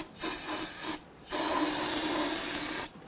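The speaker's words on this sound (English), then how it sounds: "Going to go ahead and spray out inside the spider gear area." Sharp hissing bursts of aerosol cleaner sprayed into the spider gear area of a 2006-2010 Hummer H3 rear differential: two short puffs, then one long sustained spray, close to the microphone.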